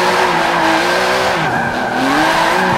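A car drifts sideways in the Forza Motorsport 7 racing game, its tires squealing steadily over a loud, continuous engine drone with shifting pitch, up close and without talk.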